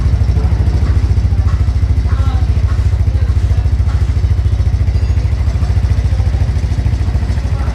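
A RUSI Gamma 200 motorcycle runs close up, its exhaust giving a steady, rhythmic low putter that holds even and continuous throughout.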